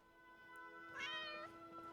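A cat meows once in Skyrim, a short rising-and-falling cry over a quiet, steady tonal hum, soft and fairly close.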